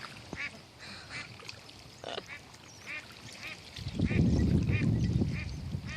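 A duck quacks repeatedly in short, fairly faint calls while a dog chases it outdoors, and a rustling, splashing burst of motion swells toward the end.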